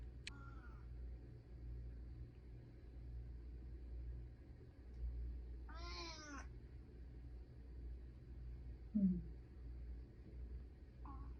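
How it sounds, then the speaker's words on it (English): A cat lets out a drawn-out meow close to the microphone, with a couple of shorter faint mews around it, over a low indoor rumble. "he meowed into the camera"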